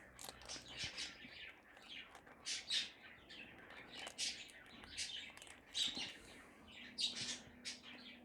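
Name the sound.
birds chirping in the background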